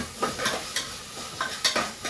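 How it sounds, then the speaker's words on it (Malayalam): Vermicelli toasts in a pan over a gentle sizzle while a spoon stirs it, giving several quick scraping strokes close by, with no voices. "ആ സേമിയ ഒന്ന് വറുത്തല്ലേ"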